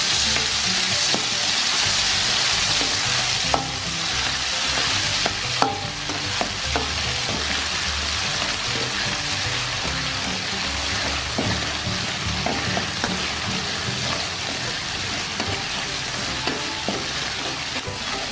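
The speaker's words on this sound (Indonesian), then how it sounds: "Langsung kita tumis bumbunya." Indonesian spice paste (bumbu) stir-fried in a pan for a beef broth: loud, constant oily sizzling with repeated scraping and knocking of a spatula against the pan, close up and without speech.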